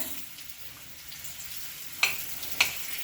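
Sweet potato slices frying in a pan with dry fruits, a soft steady sizzle with two sharp crackling pops near the end, close and fairly quiet.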